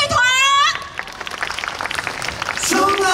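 Outdoor arts-festival crowd at the Chiayi City Cultural Affairs Bureau plaza bursts into a dense wash of applause for a band, bracketed by a host speaking over a PA before and after.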